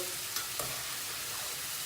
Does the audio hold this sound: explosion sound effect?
no